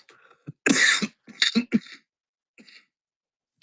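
A few harsh, close coughs in quick succession, with short throat-clearing sounds and quiet gaps between them.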